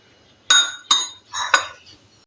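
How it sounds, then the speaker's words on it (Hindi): A spoon clinks sharply against a bowl three or four times, close and distinct, while ginger garlic paste is stirred into a chicken biryani marinade, each metallic tap ringing briefly before fading. "इसमें से मैंने ये 1 बड़ा चमचा ये इसमें मिक्स कर दिया"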